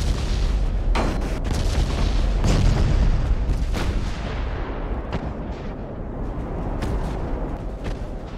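Naval gunfire in the video game Ultimate Admiral: Dreadnoughts, in a World War II night battle off Savo Island: repeated heavy cannon booms and blasts, some near and some distant, over a continuous rumble.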